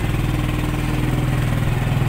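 A manual-gear motorcycle engine runs close and loud with a steady, throbbing pulse, given only gentle throttle so the pitch stays nearly even throughout.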